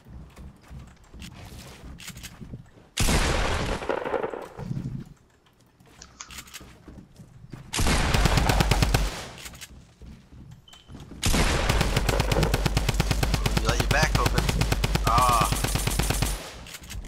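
Drum gun fire in Fortnite: three long, dense bursts of rapid automatic shots, loud and close, separated by short quieter gaps, with the last burst running about five seconds.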